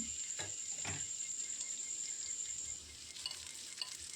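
Garlic and ginger sizzle in hot oil for mango pickle, a faint, steady frying hiss with a few stirring scrapes early on. The sound eases partway through and then carries on more quietly.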